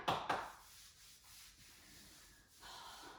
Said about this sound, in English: give your leg a rub